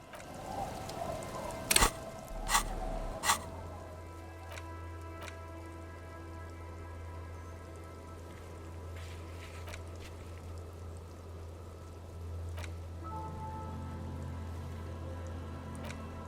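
Steady rain falls in the video game Disco Elysium, a continuous soft patter at even loudness, with a few sharp clicks near the start and a low hum beneath.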